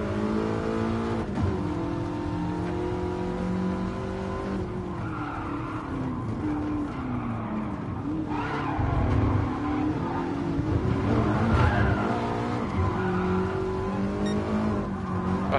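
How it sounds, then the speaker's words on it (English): A Ferrari race car engine roars loudly in the video game Gran Turismo Sport, revving up and down through shifts with tire squeal and skidding, other cars audible nearby and no talking. "That Ferrari is loud."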